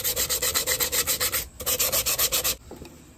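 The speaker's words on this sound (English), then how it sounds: "Go ahead and get this sanded." Hand sanding of a wooden piece for a grain sack striped fall decor project: steady rhythmic back-and-forth rubbing strokes, close and fairly loud, with a brief pause midway and the strokes stopping near the end.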